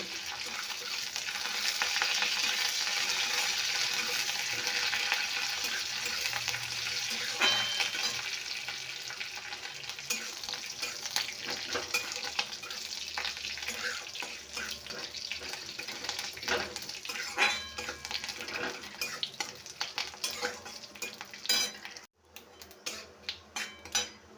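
Curry leaves, whole mustard seeds and a cracked dried red chili sizzle in white oil in a kadai. The loud, steady hiss with crackling spatters runs throughout, then thins out and cuts briefly near the end.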